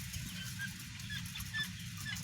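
Dense broiler chickens at 30 days old fill a poultry house in Asahan, North Sumatra, with a steady low murmur of clucking and chirps, continuous and moderately loud with no talk.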